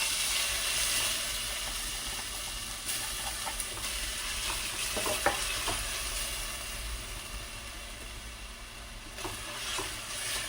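Chopped ginger, garlic and green chilli sizzle steadily in hot oil for pepper chicken, a constant close frying hiss with occasional soft stirring scrapes and small pops, no voices.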